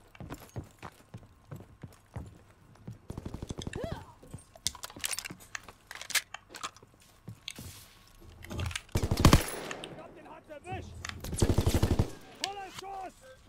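Bursts of gunfire in a snowy World War II video game, loud cracking shots in clusters separated by quieter stretches, with clicking sounds between volleys and short voice bits near the end.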